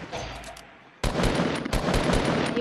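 Gunfire in Fortnite Battle Royale during a squad match: a faint pause, then a burst of rapid, loud shots that continues in quick repeated bursts until the end.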